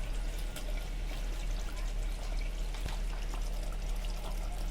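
Minced meat going into a pan of cooking masala for matar keema gives a steady soft sizzle and hiss with a few faint clinks, close and continuous, with no talk.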